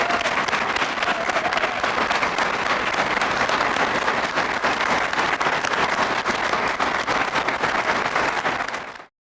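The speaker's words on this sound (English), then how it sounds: "Let's give her a round of applause." An audience at a domestic violence awareness event gives a sustained, even round of applause, dense clapping that holds steady for about nine seconds before cutting off abruptly.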